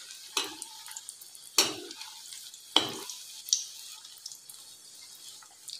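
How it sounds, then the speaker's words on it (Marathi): Cheese balls are lowered into hot oil at medium heat, giving a few separate splashy sizzles and drips about a second apart. Each burst fades quickly into faint bubbling, close by and fairly quiet, with no talking. "आता आपण जे बॉल्स तयार करून घेतलेले आहेत ते तेलात सोडूया आणि यांना मध्यम आचेवर चांगला लालसर रंग येईपर्यंत तळून घ्यायचा आहे"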